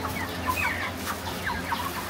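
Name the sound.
broiler chickens clucking in a poultry farm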